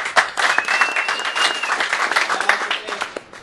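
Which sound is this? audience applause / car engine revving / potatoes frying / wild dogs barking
audience applause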